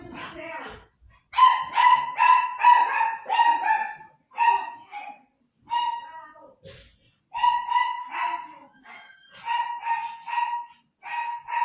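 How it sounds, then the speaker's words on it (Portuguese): Several loose dogs, one of them a large dog, erupt in frantic barking and yelping, as if they are fighting. Dense bursts of sharp, close barks come in rapid clusters with short pauses between them. "eu achei que meus cachorros estavam, eles se soltaram, a grande se soltou, eu achei que eles estavam se matando ali"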